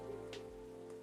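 Heavy rain in the video game Coffee Talk, a steady soft hiss running under sustained background music tones, with no voices.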